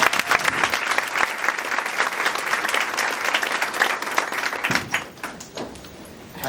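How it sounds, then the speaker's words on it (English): A township meeting audience applauds incoming trustees with loud, dense clapping that carries strongly for several seconds, then thins and fades to scattered claps near the end. "Let's give them all a round of applause."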